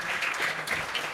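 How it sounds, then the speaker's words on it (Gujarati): Brief burst of dense clapping from a seated crowd at a felicitation ceremony honouring Jain monastic travel volunteers in Ghatkopar, lively and full for just over a second. "એકવાર જોરદાર તાળીઓથી વધાવો"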